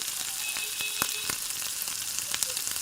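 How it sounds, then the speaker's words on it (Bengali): Onions frying and being stirred in a pan while turning light reddish brown, a continuous bright sizzle close by with scattered clicks and scrapes of a spatula at irregular moments. "এক মিনিট এভাবে নাড়িয়ে চাড়িয়ে নিলে পেঁয়াজগুলো যখন হালকা লালচে ভাজা ভাজা হয়ে যাবে"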